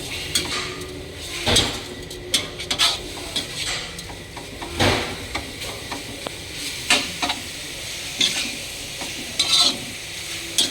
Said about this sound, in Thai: ใส่เกลือไปหน่อยคั่วหมูให้สุกก่อน